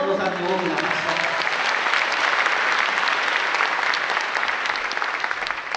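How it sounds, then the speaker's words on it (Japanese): A concert hall audience applauds a swing big band at its anniversary concert, starting under a fading musical tone and building into loud, dense, sustained clapping that eases off slightly at the end. "一度皆さんに大きな拍手を。"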